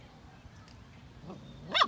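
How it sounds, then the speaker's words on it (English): Pet dog giving a few short barks and yips indoors, faint at first, then one louder close bark at the end. "No, don't bark, honey."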